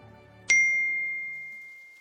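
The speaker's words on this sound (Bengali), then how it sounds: "হুঁশ ফিরল মোবাইলে একটা মেসেজ ঢোকার" A mobile phone's incoming message notification sounds as a single bright ding that rings out and fades slowly in an otherwise quiet room.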